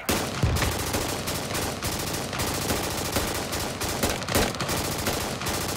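Heavy sustained gunfire fills the tactical military shooter Squad: dense, continuous automatic bursts with overlapping shots from several weapons, loud and unbroken throughout, with no speech.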